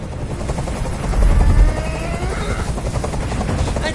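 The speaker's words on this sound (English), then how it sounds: "I can't stand that noise anymore. Tell that helicopter to get out of here." A helicopter in the game Detroit flies overhead, its loud, steady rotor thump and engine roar filling the whole stretch and swelling briefly near the middle.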